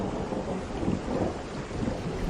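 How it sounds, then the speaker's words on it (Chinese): Thunderstorm with rain, a dense, steady hiss of rainfall mixed with low rumbling thunder, fairly loud and continuous throughout, with no voices. "雷雨慢慢停歇"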